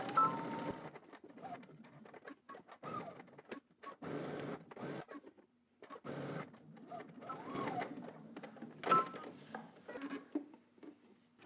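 A sewing machine backstitching and running a 5/8-inch seam on a utility jacket, whirring in short irregular bursts with stops between them, quiet and close.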